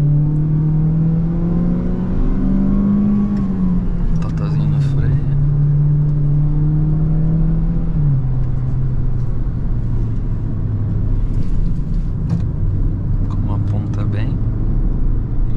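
A Peugeot 208 Allure 1.6 automatic's engine drones steadily inside the cabin at full throttle, its pitch rising and then dropping as the car gears up, with a voice talking over it.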